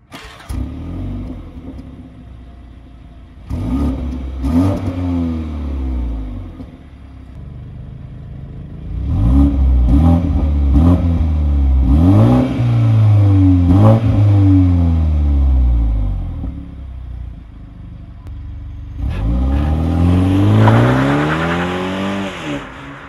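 A BMW 330i Touring M Sport (G21) pulls away and accelerates, its engine note rising through several gear changes with rising and falling sweeps, loud and close from the cabin.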